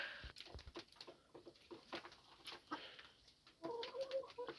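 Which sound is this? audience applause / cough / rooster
rooster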